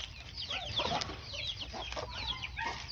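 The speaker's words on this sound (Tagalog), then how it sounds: "Tapos meron ako dito manok, konti lang sila." A handful of chickens in a rural backyard cluck softly and intermittently at close range, with short scattered calls over a quiet outdoor background.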